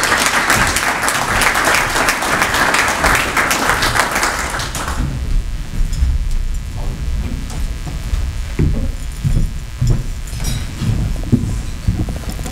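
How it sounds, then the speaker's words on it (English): A conference audience applauds a speaker at a technology event, a loud dense burst of clapping for about five seconds that then drops away to room noise and scattered murmurs. "please give her a warm round of applause"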